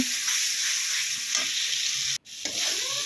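Spice paste frying in a pan for a drumstick and potato dish: a loud, dense, continuous sizzle with stirring, briefly cutting out for a moment before resuming.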